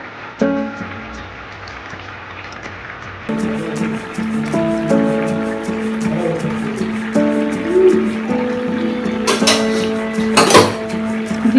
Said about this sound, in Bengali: সেদ্ধ হয়ে গেছে এবার ভেজে রাখা পাঙাশ মাছগুলো দিয়ে দিলাম